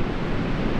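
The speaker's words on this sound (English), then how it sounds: "Look at all those waves." Ocean surf rolls in at 90 Mile Beach, New Zealand, a steady broadband wash of breaking waves with some wind rumble, continuous and fairly loud throughout the short stretch.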